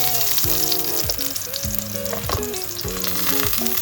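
Zucchini frying in vegetable oil gives a dense, steady crackling sizzle, with a melodic music track playing over it throughout.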